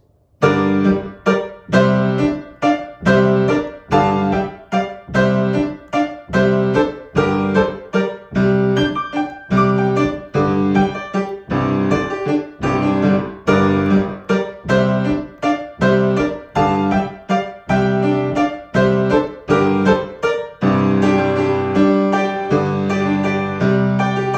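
Slow piano playing with chords struck at a steady, unhurried pace, each briefly sustained before the next, played alone and close.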